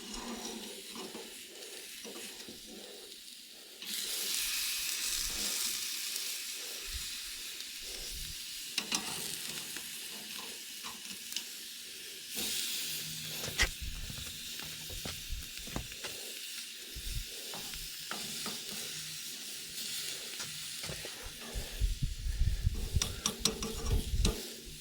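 Elk steaks sizzle on a grill after being flipped, a steady close hiss and crackle that swells when the meat is turned and carries on with small pops throughout.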